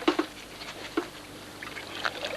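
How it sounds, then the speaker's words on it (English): Water tipped and trickling out of a carp weigh sling beside a lake, brief splashy pours with short dribbles between, close and fairly quiet. "He's even tipping the water out"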